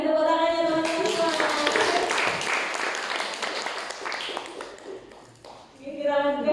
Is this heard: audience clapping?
yes